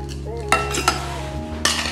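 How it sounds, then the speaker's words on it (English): Ice cubes dropped into old-fashioned glasses for a non-alcoholic grapefruit mint cooler, with a few sharp clinks and knocks over a steady kitchen background hum, near and fairly loud. "I add some ice into my glasses"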